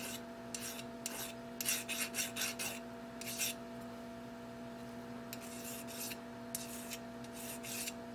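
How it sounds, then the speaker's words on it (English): A metal file rasps across the base of a spark plug to take off burrs, in short repeated strokes, a quick cluster of scrapes followed by a pause and then more strokes, close up over a steady background hum. "hit the bottom of this with the file a little bit."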